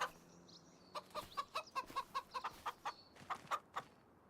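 Chickens in the farming game Farming Simulator cluck in a quick rhythmic run of a dozen or so clear, close clucks, with no talking.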